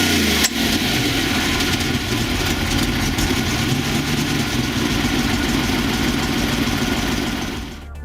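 Lamborghini Jalpa with its V8 engine idling, a steady, loud, dense mechanical hum that holds evenly throughout and eases slightly at the very end.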